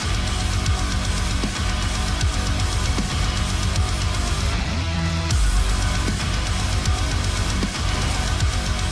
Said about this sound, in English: It's like this blend of heavy metal and techno, and it just works really well